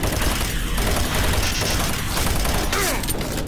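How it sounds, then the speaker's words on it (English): Gunfire in Doom 3 as a player shoots at a wall: dense, continuous rapid shots filling the moment, loud and close, with no talk over it. "No, I'm shooting. I'm shooting the wall."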